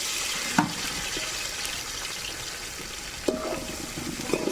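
Chopped tomatoes fry in a pan over a wood-fired stove for biryani, giving a steady, close sizzle with a couple of brief clinks from a utensil.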